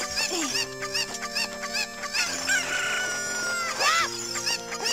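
Chickens in The Legend of Zelda: Ocarina of Time 3D crow and cluck in a run of short squawks over steady game music, fairly loud and up close.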